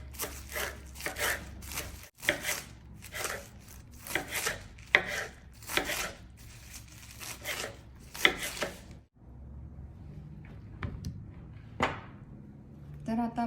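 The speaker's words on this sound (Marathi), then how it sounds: "ती आपण आता चिरून घेऊया." A knife chops a bunch of cleaned mustard greens for sarson saag on a board in a series of crisp, close strokes with short pauses. A voice talks between the cuts.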